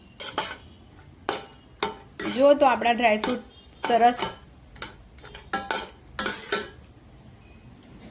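Cashews and almonds fry in ghee while a spoon stirs them, making repeated metallic scrapes and clinks against the pan over a faint sizzle, with someone speaking between the strokes.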